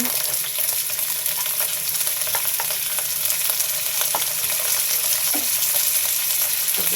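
Ginger, garlic and cumin paste fries in a pan with a steady, close sizzle. Faint scrapes and stirring clicks come through now and then, and no one speaks.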